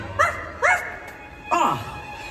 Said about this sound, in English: Where is that dog?